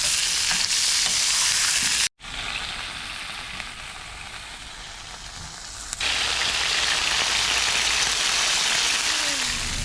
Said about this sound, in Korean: 아까 그 비프 햄버거 패티 굽고 있어요